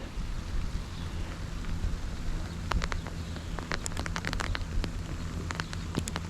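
A cooling sprinkler on a dairy farm sprays water with a steady hiss, and scattered droplets patter and tick irregularly over a low background hum, with no voices.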